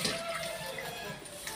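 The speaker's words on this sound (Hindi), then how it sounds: "ठंडा पानी ऐसे डाल दो।" Cold water pours in a steady, even rush for a moment, filling the clip with continuous hissing splash and no talking.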